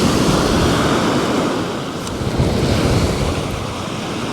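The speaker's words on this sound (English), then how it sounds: "Got a bit of a side wind tonight." Steady side wind buffeting the microphone on Southbourne Beach in the UK, with surf rolling underneath as a constant loud roar, no voices.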